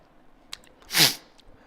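A single sharp human sneeze, close and fairly loud, with a short intake before it and near silence around it.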